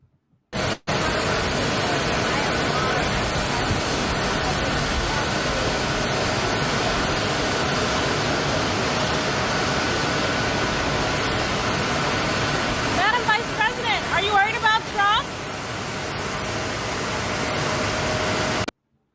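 A jet airliner arriving in Philadelphia, its engines giving off a steady, loud broadband roar and whine that runs for the whole stretch. Brief fluttering sounds break in near the end.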